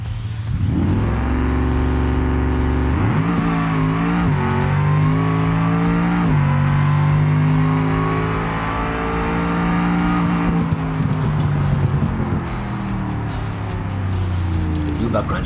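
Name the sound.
Buuck drag car with V8 accelerating on a drag strip in BeamNG video game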